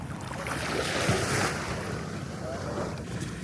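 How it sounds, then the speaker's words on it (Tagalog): Ocean waves wash in with a broad surging rush, mixed with wind buffeting the microphone, close and steady. "high tide siya. Isang alon."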